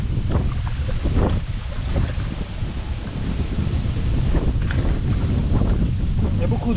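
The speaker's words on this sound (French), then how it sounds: "Il y a beaucoup de vent." Strong wind buffets the microphone while fishing outdoors by the water, a loud continuous low roar with gusty surges throughout and faint lapping of water beneath.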